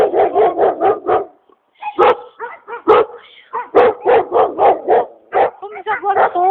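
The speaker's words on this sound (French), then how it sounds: "Comme ils aboient trop, je vais pas les faire aboyer." Several house guard dogs bark loudly and close by in rapid bursts of repeated barks, with a short pause before the barking resumes in quick, overlapping runs.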